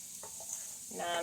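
Chili powder and onion powder cooking in a pot while being stirred, a soft sizzle with a few scraping stirs, quiet and close.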